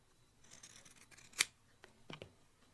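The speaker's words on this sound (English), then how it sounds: "Just trimming just the curve" Scissors trim around the curve of sewn fabric pieces: one crisp, close snip, then a couple of quieter cuts a moment later in an otherwise quiet room.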